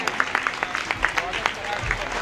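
At an Adivasi community festival stage event, a crowd claps in a loose, uneven patter of individual hand claps with scattered sharp peaks, a low rumble and some background voices underneath.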